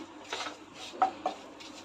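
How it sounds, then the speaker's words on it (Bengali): Boneless mutton being stirred for biryani in a pot, heard as a few soft, quiet scraping and clinking strokes that come in short bursts against a faint background. "এটা একটু নেড়ে নিচ্ছি"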